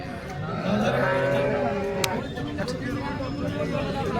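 A cow lows nearby at a livestock market in Sangola, a drawn-out moo beneath steady crowd murmur and voices in the background.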